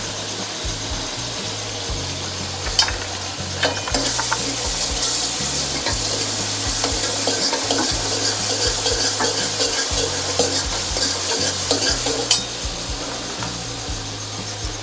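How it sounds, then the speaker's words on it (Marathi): Onions frying in a pan with ginger garlic paste for a dhaba-style whole masoor dish, a loud continuous sizzle with scraping stirring strokes close by, without talking. "त्याच्यातच आपण आलं लसूण पेस्ट टाकून घेऊया।"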